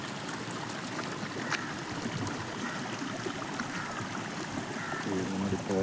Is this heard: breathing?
no